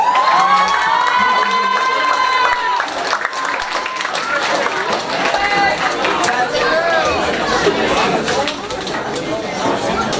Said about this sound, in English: we want to clap it up for Jen Yabawa